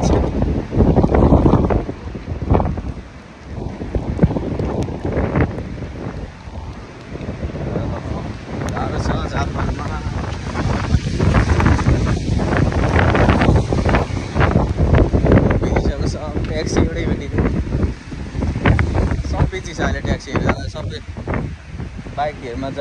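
Strong typhoon wind gusts during Typhoon Khanun in Okinawa roar and buffet the microphone continuously, loud and close, with occasional voices underneath.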